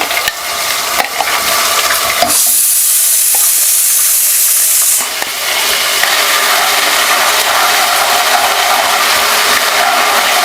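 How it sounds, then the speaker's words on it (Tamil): Vadagam frying in hot oil in a pan, a loud continuous sizzle with stirring, then a brief hissing burst as ginger garlic paste goes in before the steady frying resumes. "வடகம் வந்து பொரிஞ்சாச்சு இஞ்சி பூண்டு பேஸ்ட் போட்டுக்கலாம்"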